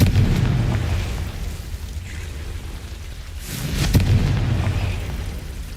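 Two booming blasts from the Confringo fire spell in Hogwarts Legacy, one at the very start and another about four seconds in, each a low rumbling burst with a hollow tail, with a quieter gap between them.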